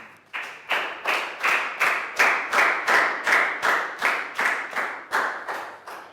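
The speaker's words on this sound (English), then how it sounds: "High five, big round of applause." Children in a Year 3 English classroom give a big round of applause. Around fifteen loud, evenly spaced claps come in unison with a steady rhythm, close by and unbroken by speech.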